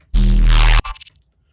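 Processed Serum synth bass patch played alone: one loud, thick buzzing bass note lasting under a second, cut off abruptly, followed by a short fading echo tail.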